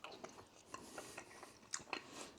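Soft, close chewing of cooked carrots from slow-cooked beef, with faint irregular wet crunches and mouth sounds at low volume.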